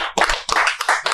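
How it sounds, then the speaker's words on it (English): Studio audience applauding for the Lacombe Senior AA Generals hockey team, a burst of close, uneven clapping that swells and dips in quick waves. "let's have a round of applause for the Lacombe Senior AA Generals"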